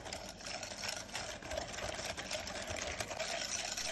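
Pumpkin cookie batter of pumpkin, egg yolks, vanilla and melted butter being mixed in a bowl, heard as a steady, fairly quiet whirring churn with faint clicks and scrapes throughout, no voices.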